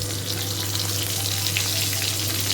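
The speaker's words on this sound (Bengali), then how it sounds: "কাঁচা লঙ্কা ফোড়ন জিরে দিলাম।" Nigella seeds and green chillies sizzle in a hot kadai of oil left from frying prawns, giving a steady, dense, close frying hiss that holds for the whole stretch with no talking.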